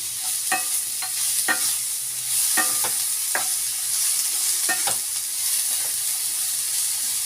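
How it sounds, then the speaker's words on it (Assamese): Banana flower stirred in a hot frying pan: a steady sizzle with repeated scraping spoon strokes at irregular intervals, close and fairly loud, with no talking. "তাৰপিছত মই এই কলডিলখিনি ইয়াত দি দিম। এটা খুব ভালদৰে মই এইদৰে লৰাই ল'ম।"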